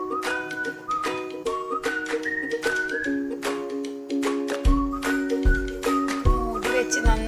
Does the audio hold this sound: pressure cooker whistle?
yes